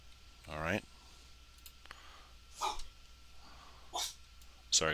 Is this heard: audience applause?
no